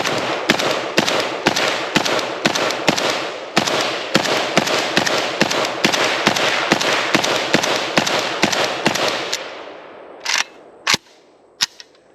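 A rapid string of loud AK-pattern rifle shots, about two per second, cracks steadily for roughly nine seconds before trailing into a few scattered, isolated reports as echoes fade.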